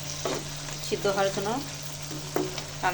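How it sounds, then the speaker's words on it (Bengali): Dried ribbonfish (churi shutki) bhuna sizzles in oil in a pan while a spoon stirs and scrapes the thick, well-fried masala in short bursts, close and fairly loud, with a steady hum underneath. "ভালো করে কষিয়ে নিয়েছি আর উপর দিয়ে তেল ভেসে উঠছে।"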